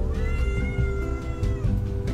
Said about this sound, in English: The cat is meowing behind us